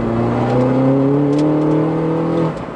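A tuned 288 bhp R56 Mini Cooper S accelerates hard on a straight road, its engine note climbing steadily in pitch and loudness from the cabin before easing off abruptly near the end.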